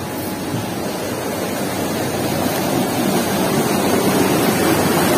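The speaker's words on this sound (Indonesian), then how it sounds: "di sini juga sahabat ada aliran sungai yang cukup lumayan deras" A fairly swift river running muddy and turbid beside a village, giving a steady, broad rushing roar that holds even and unbroken throughout with no voices.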